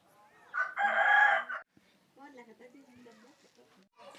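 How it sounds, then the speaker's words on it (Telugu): A rooster in a tribal village beside a hill lets out one loud, close crow, followed by softer clucking from chickens, with a voice briefly heard near the end. "అక్కడ కోడి గుడ్లు పెడుతుంది."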